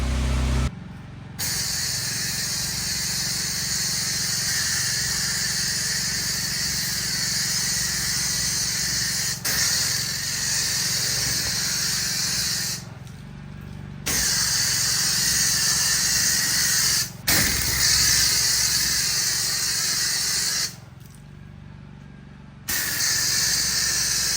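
A pressure washer with a fan nozzle spraying a grimy patio gives a loud, steady hissing roar that runs continuously. It cuts off briefly three times, dropping to a low engine hum before the spray resumes.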